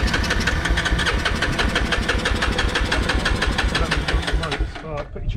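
A Vauxhall truck engine, brought in dead on a trailer, runs loud and close with a rapid, rough, knocking chug, then abruptly cuts out and falls quiet near the end.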